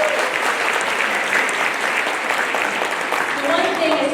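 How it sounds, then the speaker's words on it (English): Sustained applause from a crowd at a high school graduation ceremony for the graduating class, steady and fairly loud throughout with a faint voice near the end. "We're going to be clapping for you all day"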